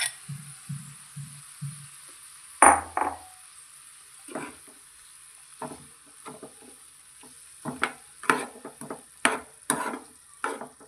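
Fried okra (bhindi) is tipped into a frying pan and stirred for a restaurant-style masala bhindi fry, giving repeated close scraping and stirring strokes with soft sizzling between them and no talk.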